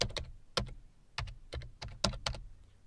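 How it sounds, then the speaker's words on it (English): Computer keyboard typing of a command, about eight distinct key presses in an uneven rhythm, close and quiet over faint background hiss. "So I'm going to type mycalc2.exe"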